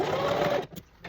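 Domestic sewing machine stitching a curved seam on fabric for a small gown, a steady close motor whir for about half a second, then stopping, with a few faint soft clicks and handling noises after.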